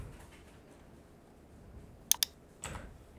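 Keystrokes on a computer keyboard while text is typed into an online design template: two sharp, close clicks followed by a softer burst of taps, faint and quiet against a low background with no talking.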